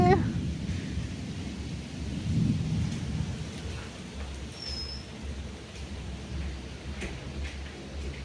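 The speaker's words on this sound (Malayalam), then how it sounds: "മഴ പെയ്യാൻ പോണത് ഇടി വെട്ടുന്നുണ്ട്" Thunder rumbling at a home in Kerala before rain, a deep rolling boom that swells early and fades into a low, steady background rumble with light rain-like hiss.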